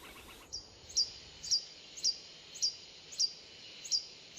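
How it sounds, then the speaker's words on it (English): Ecuadorian long-billed hermit hummingbird giving an insistent, high, thin chirp repeated at a steady half-second rhythm, about eight notes, clear and fairly near over a quiet background. "Some males like to announce their presence with a song, like the insistent chirping of this Ecuadorian long-billed hermit."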